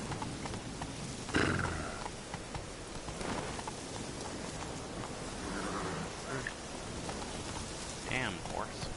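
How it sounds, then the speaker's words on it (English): Horse hooves clip-clopping through rain in the video game The Witcher, with steady rainfall and a brief whinny under game ambience, moderately near. "Damn horse."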